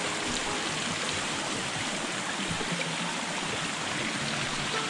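A steady rushing stream beside houses in Borçka, Artvin, Turkey, continuous broadband water noise flowing without a break, fairly close and even in level throughout.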